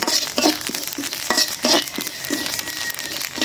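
Khichuri fries and is stirred in a pan with black cumin, giving a steady close sizzle broken by repeated scraping strokes of a spoon against the pan.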